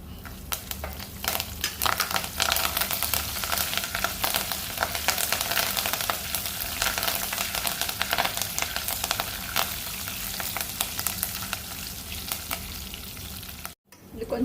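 Curry leaves frying in ghee for a tempering while pongal is being made, a dense, crackling sizzle that stays loud and steady, close by, with a brief dropout near the end and no one speaking.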